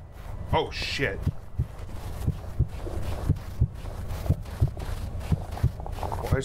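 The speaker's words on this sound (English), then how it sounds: "Why is there another heartbeat?" A video game heartbeat thumps low and regular, a steady pulse of about two beats per second running through the whole stretch under faint background noise.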